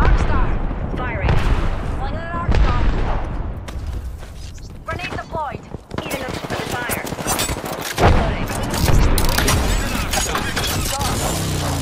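Video game gunfire in a squad-based shooter, a sustained crackle of rapid shots layered with broadband bursts across the whole stretch, with players talking over it now and then.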